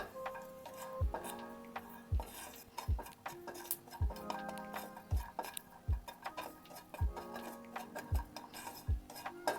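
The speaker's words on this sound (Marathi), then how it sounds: "लसूण पण थोडा परतून घेऊ." Garlic stirred in a pan for a curry leaf chutney: a spoon clinks and taps against the pan in a regular rhythm, about once a second, with faint stirring between the knocks.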